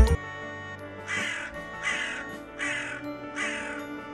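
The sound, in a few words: crow cawing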